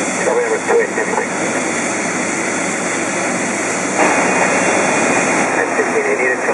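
Jet engines of an Emirates Boeing 777-300ER taxiing at an airport make a steady, loud broadband roar with a constant high whine, swelling slightly partway through; no talk over it.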